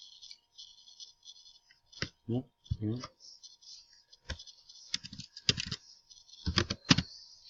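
Keystrokes on a computer keyboard come in short bursts and isolated clicks, fairly close and moderately loud, with brief pauses between runs.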